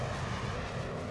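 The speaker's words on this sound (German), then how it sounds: "Am 1. September drang ein koreanisches Flugzeug in den sowjetischen Luftraum ein." A Korean airliner's engines drone steadily in flight, a broad, even roar with no breaks, moderately loud and sustained, with no voices.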